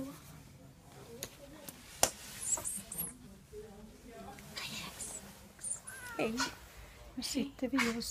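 A small cat meows several times on the way to the vet, faint and a little distant, its cries mixed with hushed voices and light rustling.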